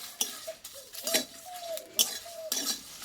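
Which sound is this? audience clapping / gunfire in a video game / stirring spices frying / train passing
stirring spices frying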